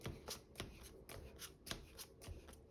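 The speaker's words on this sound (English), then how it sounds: "I guess we shuffled anyways" Playing cards being shuffled for a Marvel Champions card game, a series of crisp riffles and bridges repeating at a steady pace, close and fairly quiet, with no talk over them.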